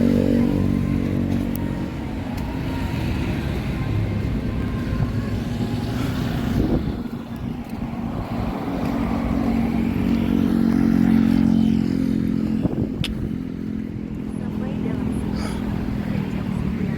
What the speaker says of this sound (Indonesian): Hati-hati nyebrang, kendaraan kencang.